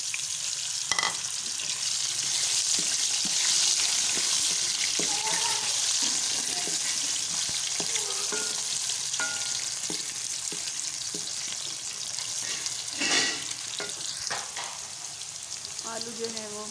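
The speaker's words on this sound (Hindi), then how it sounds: "आलू जो है वो हमारे फ्राई हो रहे हैं अच्छे से।" Potatoes frying in oil left over from frying eggs: a steady, fairly quiet sizzle runs throughout, broken by occasional clinks and stirring scrapes in the pan.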